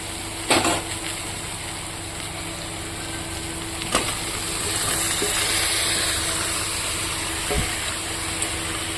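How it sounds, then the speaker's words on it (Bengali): Fried potatoes and chicken go into a pan of spiced chili masala: sharp metallic clanks near the start, middle and end over a continuous sizzle. "এবার আমি এখানে ভেজে রাখা আলু আর মাংসটা দিয়ে দেবো"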